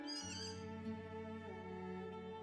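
Noisy miner bird call sound effect from the board game app Wingspan, a loud, rich harmonic call that holds steady and shifts pitch partway through, heard alone and close without talk.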